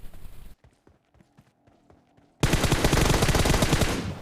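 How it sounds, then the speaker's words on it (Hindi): Gunfire in a mobile shooter game: a brief burst, then quiet with sparse faint pops and footsteps, then sustained loud rapid automatic fire that fills the rest of the moment. "अब आगे साइड के घरों से फायरिंग आना स्टार्ट हो जाती है"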